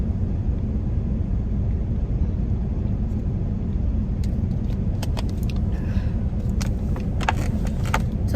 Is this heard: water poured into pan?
no